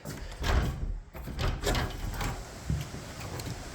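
A wooden door in a 1901 farmhouse opening and closing on the way outside, with a couple of close knocks and scrapes of the door moving, then footsteps and room noise.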